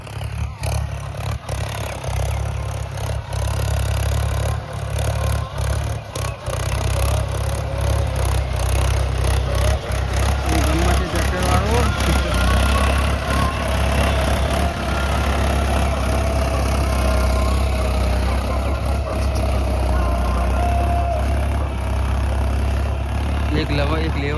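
A tractor engine runs steadily and loudly in a sorghum field, a constant low rumble with some rattle, while a voice or loud music plays over it throughout.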